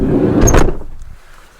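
A side door being opened on a VW Crafter camper van conversion, a short close mechanical clunk and slide that fades away within about a second.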